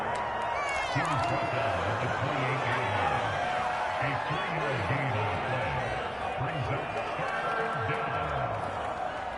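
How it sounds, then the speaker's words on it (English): Stadium crowd noise in a Madden football video game ahead of a big third down: a continuous, swelling roar beneath steady play-by-play commentary throughout. "The crowd getting into it as we come up on a big 3rd down."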